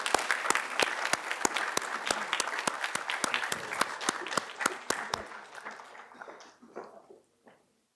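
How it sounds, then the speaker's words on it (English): A conference plenary audience gives a round of applause, many hands clapping loudly with sharp distinct claps for about five seconds before thinning out and fading to silence. "Let's have a loud round of applause."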